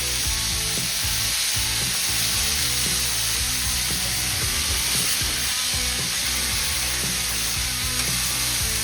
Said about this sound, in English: Sizzle, sizzle, pop, pop.